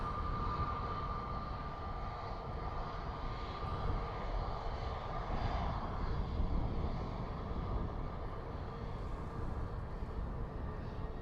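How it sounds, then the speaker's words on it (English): An Airbus A320neo at Dublin Airport gives a sustained jet engine roar with a faint steady whine, heard from a moderate distance and swelling slightly midway, with no talking. "So 320 Neo"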